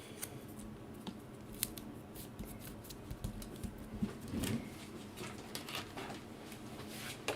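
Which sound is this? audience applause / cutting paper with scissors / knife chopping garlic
cutting paper with scissors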